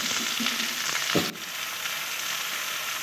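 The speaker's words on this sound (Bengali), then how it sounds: "তেলের মধ্যে পেঁয়াজ কলি পড়লে প্রচণ্ড পরিমাণে তেল ছেটে" Onion stalks sizzle and fry in hot oil in a pan, a steady close crackle with a brief stirring scrape partway through, no voices.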